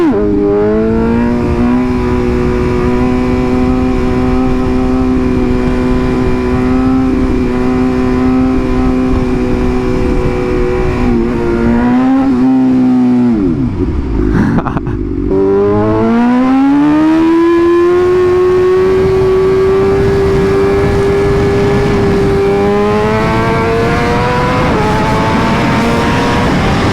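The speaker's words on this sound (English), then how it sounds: "it is the same engine, the typical one they've been using for a while, the 998cc inline 4 motor" A Kawasaki superbike with a 998cc inline-four engine revs loud and close, a high sustained engine note that dips briefly mid-clip before climbing again and holding steady.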